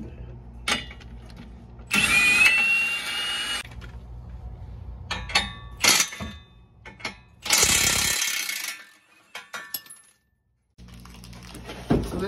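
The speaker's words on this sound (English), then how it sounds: "Now I'm taking off the bolt that goes to my brace to my radius arm." A power tool, likely an impact wrench, takes the bolt off a brace on the radius arm of a 1991 Jeep XJ during a long-arm crossmember fix, with loud close bursts of whirring between clinks and quiet gaps.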